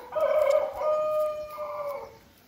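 A single rooster crows once, a clear, fairly close call lasting about two seconds that tails off at the end, with no talk over it.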